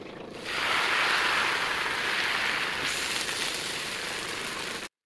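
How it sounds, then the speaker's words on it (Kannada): Neer dosa batter poured from a glass onto a hot oiled pan sets off a loud, steady hissing sizzle that rises sharply after a brief quiet start and holds evenly to the end, with no talking. "ಈಗ ನಾನು ಒಂದು ಗ್ಲಾಸ್ನ ಯೂಸ್ ಮಾಡಿಕೊಂಡು ದೋಸೆನ ಹಾಕ್ಕೊಳ್ತಾ ಇದ್ದೀನಿ"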